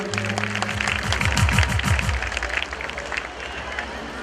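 Bhajan evening audience clapping, a dense patter of many hands that swells and then thins, with a voice talking over it near the start.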